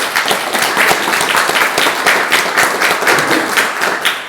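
An audience applauds at a self-development workshop, a dense, loud, steady patter of many hands clapping that carries evenly from start to finish.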